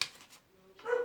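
Dogs bark and whimper excitedly indoors as a dog walker arrives, a short sharp yelp at the start and another burst at the end with a quieter gap between.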